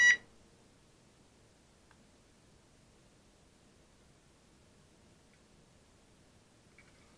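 One short, shrill electronic beep from a fishing bite alarm sounds right at the start, then only faint background hiss remains.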